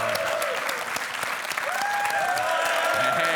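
A crowd at a Clash of Clans tournament applauds and cheers steadily for a few seconds, a loud, even wash of clapping with some whistles over it.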